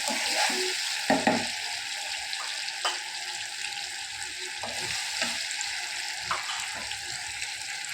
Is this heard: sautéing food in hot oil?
yes